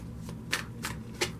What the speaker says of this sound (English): My eyes are closed while I'm shuffling these cards because better off that way.